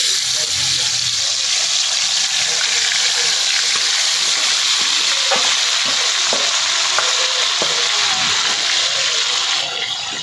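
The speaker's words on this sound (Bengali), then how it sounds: "এবার এতে দেবো মাংসটা, ম্যারিনেট করা মাংসটা।" Marinated chicken hits a hot pan with whole spices such as cardamom and cloves for shahi chicken korma, a loud steady sizzle and fry close up, with faint stirring clicks under it.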